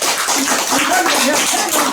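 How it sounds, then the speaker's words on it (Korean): Dense crowd applause, many hands clapping steadily and loudly the whole time. "한번 박수 보내주십니다."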